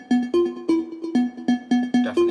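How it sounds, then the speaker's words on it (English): A plucky acid synth plays a shuffled, groovy melody of short staccato notes, about ten punchy plucks in quick syncopated rhythm, loud and close with no voices. "So we've changed the acid to this now plucky sound."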